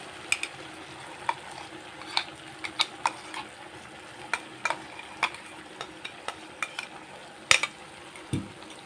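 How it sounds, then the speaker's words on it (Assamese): Tomato paste fries on low flame in a pan while a utensil stirs and scrapes it, giving a steady soft sizzle under sharp irregular clicks and knocks close by. "বিলাহীৰ কেঁচা গোন্ধটো নাইকিয়া হোৱালৈকে আমি এইখিনি ভাজি থাকিব লাগিব।"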